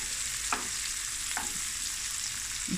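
Onions and peppers sizzle steadily in a pan, a continuous hiss with a few soft scrapes and a utensil tap near the end.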